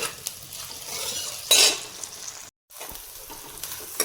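A spoon scrapes and stirs rice cooking in a pot in a home kitchen, with soft sizzling, a sharper metallic scrape partway through and a brief dropout, close and fairly quiet, with no talking.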